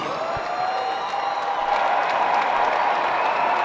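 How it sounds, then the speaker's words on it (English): Arena crowd applauding and cheering both boxers after a ten-round women's championship fight between Claressa Shields and Maricela Cornejo, a steady, broad wash of clapping with a faint hum beneath. "Ladies and gentlemen, please put a big round of applause together for both of the fighters in this ring."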